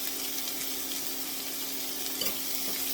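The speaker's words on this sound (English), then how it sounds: "these onions need to fry until they're softened but not coloured" Onions frying in a knob of butter give off a steady, even sizzle throughout, close and continuous with a faint underlying hum and a few tiny crackles.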